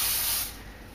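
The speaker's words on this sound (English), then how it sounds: "Spray the bowl with oil" Cooking oil sprayed from a can into a bowl before bread dough goes in, a loud close hiss lasting about half a second that tails off into quieter residual spray.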